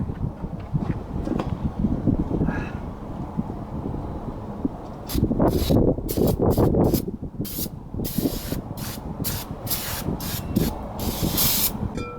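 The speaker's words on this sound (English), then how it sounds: "Get your brake cleaner and spray it out." Aerosol brake cleaner spraying in several bursts, loud and close, separated by short pauses, over a low background rumble.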